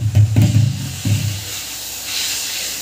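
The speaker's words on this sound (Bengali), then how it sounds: "আমি রাজমাগুলো দিয়ে দেবো।" Kidney beans drop into frying spice paste, setting off loud bursts of hissing with low thuds as they land, then a softer sizzle settles in.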